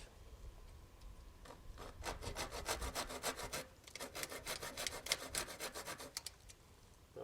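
A hand saw cuts notches into a wooden bow in a quick series of rasping back-and-forth strokes, close and fairly quiet, with short pauses between bursts.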